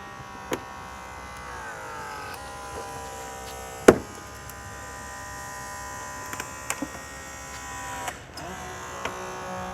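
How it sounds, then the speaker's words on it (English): A Holmatro Combi-Tool hydraulic rescue tool, tips removed, cutting through a car dashboard: a steady mechanical whine and hum with occasional sharp cracks and metal snaps, close and continuous. "With the Holmatro Combi-Tool, we have taken off the removable tips so that we can maximize our cuts."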